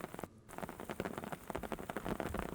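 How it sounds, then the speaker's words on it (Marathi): Heavy rain with hail pounds down in Wadwani and Kej in Beed district, a dense, constant patter of drops striking surfaces, loud and close with no voices. "बीडच्या वडवणी आणि केज इथे जोरदार पाऊस आणि गारपीट झाली आहे"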